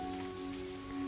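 Heavy rain pours steadily in a Hindi children's cartoon about a bird and a bamboo house, a continuous dense patter under a faint sustained tone, with no talk.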